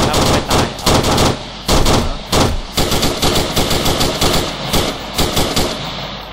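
Rapid bursts of automatic gunfire from the military video game Arma 3, loud and close, firing in repeated volleys with short gaps across the whole stretch.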